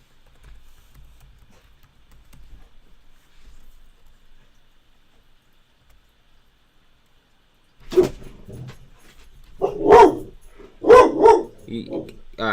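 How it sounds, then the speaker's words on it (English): After a long quiet stretch, a dog barks several times in short irregular bursts, fairly close, with some rustling between barks. "you guys gotta stop barking at that other dog"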